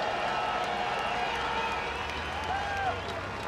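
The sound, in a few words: crowd cheering at the Japanese MotoGP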